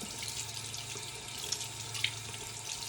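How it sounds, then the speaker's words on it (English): Tap water runs steadily into a sink while a makeup brush is rinsed, a continuous soft hiss with a few faint splashes, heard close and alone. "You see how I fan the brush under the water to really get all that soap out"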